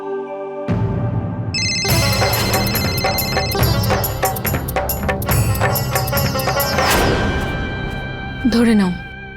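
A phone ringtone plays loudly and steadily for several seconds, its electronic tones repeating, ending with a brief sweeping chirp.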